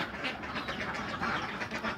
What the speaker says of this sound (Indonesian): bebek yang sudah tidak bertelur.